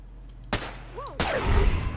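Weapon fire in Fallout New Vegas with the Nevada Outlaws mod: two loud, sharp shots about half a second apart, each with a quick crack and a short echoing tail, with a small whistling sound between them.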